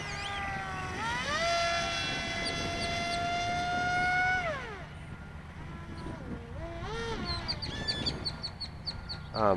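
A homemade electric RC flying wing model flies overhead, its high-pitched motor whine holding steady, then dropping and rising again as it passes and banks, with faint wind noise beneath.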